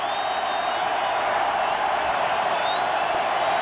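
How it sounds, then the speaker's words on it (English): Stadium crowd at a 1995 Michigan at Michigan State college football game, a loud continuous roar of cheering and noise that holds steady without breaks. "Here comes the crowd."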